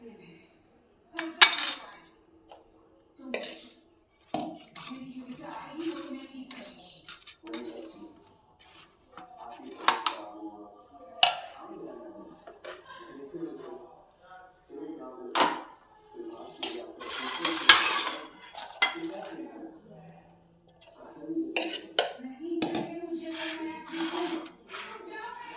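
Semolina and bottle gourd dhokla batter mixed in a bowl with a spoon, heard as scattered clinks, knocks and scrapes against the dish between quieter stretches.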